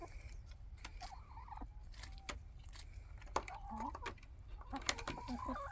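Chickens cluck softly in a fall garden, short murmuring calls scattered through the clip amid rustling and light clinking nearby.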